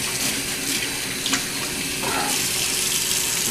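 Water runs from a kitchen sink tap as hands are washed, a steady close splashing stream with small shifts in flow and brief splatter, no talking.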